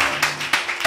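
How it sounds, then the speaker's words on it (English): A church congregation gives a few scattered claps, sharp separate hand smacks over a brief moment with no talking. "Y'all clapping like I made that money or something."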